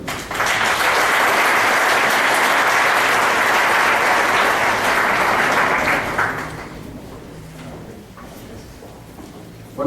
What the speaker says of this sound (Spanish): Solicito su aplauso.